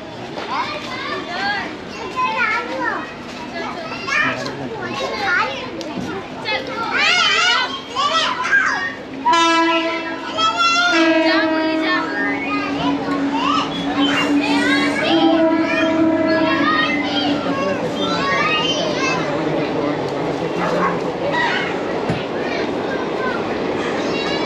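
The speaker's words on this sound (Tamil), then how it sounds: "ட்ரெயின் வருது அங்கே பாருங்கள்." A train rolls past close to a crowded Dharavi neighbourhood in Mumbai, its rumble and clatter rising midway and holding under the shouts and chatter of children playing nearby, with adults talking too.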